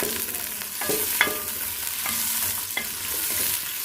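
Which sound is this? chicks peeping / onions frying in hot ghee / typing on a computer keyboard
onions frying in hot ghee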